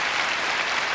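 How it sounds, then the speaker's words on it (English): Audience applause at the Eurovision Song Contest 1985 in Gothenburg, a dense, steady wash of many hands clapping at an even level throughout, with no voices over it. "His mother applauding."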